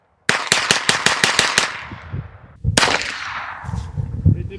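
An AEA SF .30 caliber airgun fed from a belt-fed magazine fires a rapid string of about eight sharp shots, then a single loud shot after a short pause, each crack trailing off in a ringing echo.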